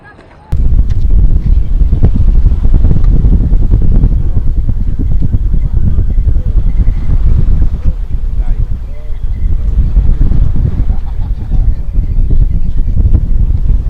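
A small fishing boat's motor drones steadily and loudly up close at sea, with wind buffeting the microphone and voices talking over it.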